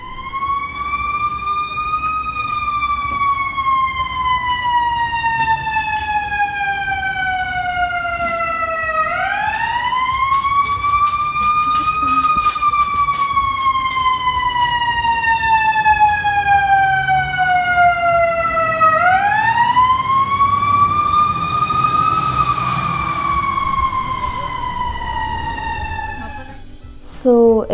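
A fire truck siren wails loudly on a Chicago city street near Millennium Park, sweeping up and down in long repeating cycles over steady traffic rumble, with a faint voice now and then.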